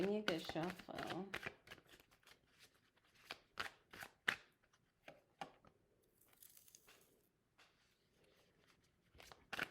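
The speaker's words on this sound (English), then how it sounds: "Come on now, give me a good shuffle." Tarot cards are shuffled in a series of quick, crisp riffling and slapping bursts that come and go, with a voice talking at the start.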